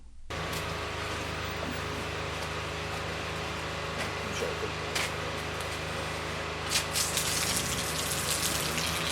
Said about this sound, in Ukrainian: Це вода самотьоком без насосу йде, так?